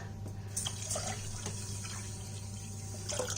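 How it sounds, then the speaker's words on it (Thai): Water pours into a pot of salt in a home kitchen, a soft, steady splashing and trickling with a few small drips over a low hum. "แล้วเราก็จะเทน้ำใส่ลงไปนะคะ"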